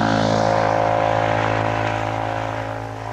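A 1979 rally car engine running rough roars loudly and unevenly nearby on a Scottish rally stage, a rough, lumpy drone that slowly fades as it pulls away.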